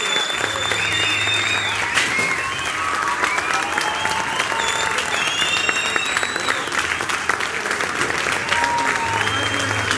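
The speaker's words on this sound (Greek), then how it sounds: "Θέλουμε κι άλλη φωνή και άλλο χειροκρότημα." A large crowd applauds and cheers loudly at a political campaign event, dense continuous clapping for about ten seconds with whistles and shouts rising above it.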